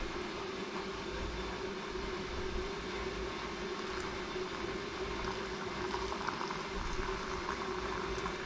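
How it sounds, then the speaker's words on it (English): Pear syrup kept at a steady rolling boil in a pot on the stove during home canning, a constant bubbling hiss heard close and alone throughout. "And I just keep that syrup boiling"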